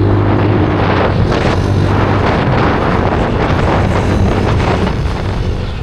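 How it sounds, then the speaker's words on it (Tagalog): Loud, continuous wind buffeting the microphone, a rough roaring rumble with no voices. "Mahangin."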